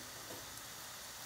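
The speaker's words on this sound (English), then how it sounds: "Ooh, sizzle!" Carrot ribbons sizzle in a covered pan as the lid is lifted, a dense, steady hiss of frying that fills the moment evenly at moderate loudness with no voices.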